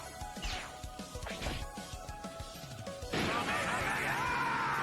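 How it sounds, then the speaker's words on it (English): In a fanmade Dragon Ball animation, Broly's big explosive punch lands after a run of quick whooshing swipes and thuds, bursting into a sudden loud crash that sustains as a roaring blast to the end. "big explosive Broly punch"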